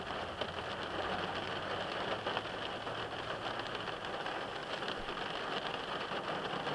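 Steady rain falling on a wet, rainy Wednesday, a dense, even hiss that holds at a constant level throughout, with a faint low engine-like rumble underneath and no voices.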